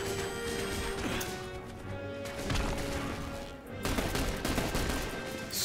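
Rapid turret gunfire and crashing impacts fill a firefight in the video game The Bureau, a dense, loud barrage of shots and blasts continuing throughout with no speech.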